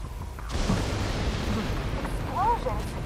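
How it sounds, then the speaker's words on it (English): Deep booming explosions in The Division 2 video game roll into a continuous low rumble and roar, loud and close, with faint electronic chirps near the end. "Explosions? What the hell?"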